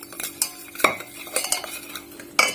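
A utensil scrapes and clinks against a bowl while cake batter of cornstarch and sugar is mixed, with sharp irregular taps and swishes close up and no talking.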